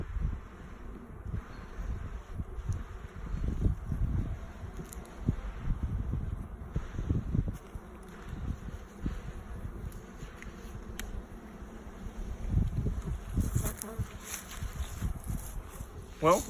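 Honey bees buzz steadily at an open hive during a quick January inspection, a continuous low drone with swelling bursts of activity and some wind rustle, heard close and moderately loud throughout.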